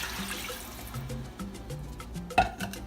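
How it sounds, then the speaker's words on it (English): Three cups of water are poured into a cooking pot of Cuban arroz con pollo, a soft splashing pour that fades early under steady background music. "Let's pour in the 3 cups of water."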